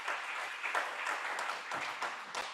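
A crowd at a Republican club candidate night claps in a steady, fairly full round of applause, the patter of many hands continuing evenly throughout without speech.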